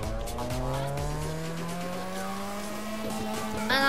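A car in the racing video game The Crew drifts. Its tires let out a sustained, rising squeal over a droning engine, loud and close, ending in a sharper screech.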